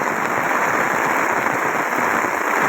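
Heavy rain pours down in Rajula before dawn as a dense, constant hiss, loud and unbroken, with no voices.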